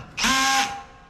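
A power drill tightens roof rack bolts on a Jeep Wrangler JLU, one short close whirring burst of under half a second that stops abruptly, with no talking.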